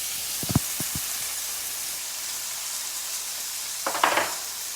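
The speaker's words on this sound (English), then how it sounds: "meatballs are browning nicely" Meatballs frying in a pan give a steady soft sizzle and hiss throughout, with a few sharp pops early and a louder crackling burst of spatter near the end, no voices.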